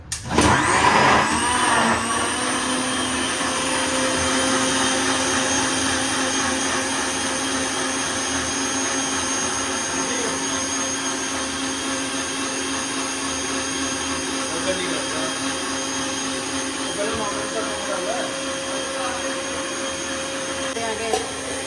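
An electric mixer grinder blending chutney starts abruptly and runs as a loud, steady motor whir with a high whine. It continues unbroken for about twenty seconds.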